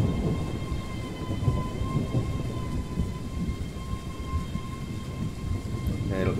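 A heavy thunder crash rolls through a rainstorm in Train Sim World 4 on the Edinburgh to Glasgow route, a deep sustained rumble under steady rain, with a train's tonal hum running alongside.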